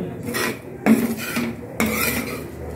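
Sesame seeds and peanuts dry roasting in a pan over low flame, with repeated scraping strokes of a spatula against metal and a soft rustling rattle of seeds, close up and without talking.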